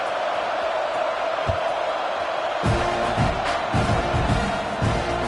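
A crowd at a football rivalry game gives a steady, moderately loud roar throughout, with scattered shouts and thumps rising out of the continuous stadium din and a commentator talking over it.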